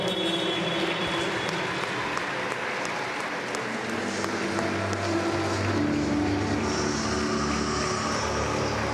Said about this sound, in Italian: Un grande applauso a Rosaria e a Vincenzo Formisano